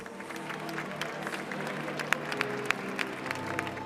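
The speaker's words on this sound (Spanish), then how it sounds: "los peregrinos le interrumpieron con un aplauso" Pilgrims in St. Peter's Square break into sustained applause during a canonization ceremony, a broad crowd clapping with a few sharper nearby claps standing out, with faint voices mixed in.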